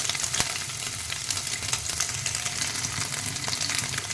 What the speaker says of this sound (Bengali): পনিরগুলো আমি হালকা লাল করে ভেজে নেবো